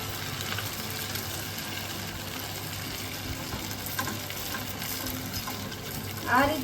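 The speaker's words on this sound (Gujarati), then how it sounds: "તો મેં તેલ છે ને પહેલેથી જ ગરમ કરવા રાખી દીધું છે, તો આપણે તેમાં એડ કરી દઈએ." Potato-stuffed cheese bread rolls fry in hot oil with a steady, dense crackling sizzle that runs throughout, close and even, with a brief spatter or utensil clink near the end.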